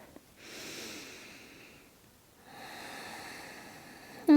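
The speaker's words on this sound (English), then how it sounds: "So we'll take one more breath." Two slow, soft breaths during a beginners standing yoga practice, an airy inhale then a longer exhale, close and quiet with a short pause between, with no talking.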